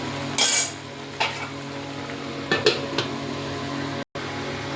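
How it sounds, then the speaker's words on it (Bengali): A metal lid clatters onto a pan of cooking kholi pabda fish, a sharp bright clank followed by a few lighter knocks and taps over a steady low kitchen hum, with no talking. "একটু ঢাকা দিয়ে দিই"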